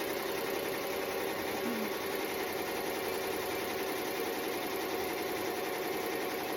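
An embroidery machine stitches out a glitter HTV reindeer design on a T-shirt, running at high speed with a steady, dense mechanical whir that holds unbroken and fairly loud throughout.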